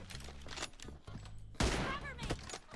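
Game gunfire during a team deathmatch shooter, with scattered shots and a louder burst near the middle, partly under excited talking and laughter.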